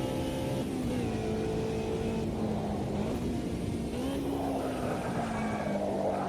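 Mid-engine car driving in Automobilista 2, a steady engine drone that rises and falls slightly with throttle, heard from onboard with no talk.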